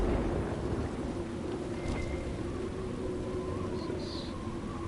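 Steady, heavy rain falls beside a lake during a storm in Dragon Age: Inquisition, with a low, constant rumble of thunder beneath it and a few faint chimes, and no one talks.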